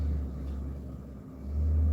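A car handed down from father to son rumbles with a deep, steady engine idle nearby, swelling a little louder toward the end.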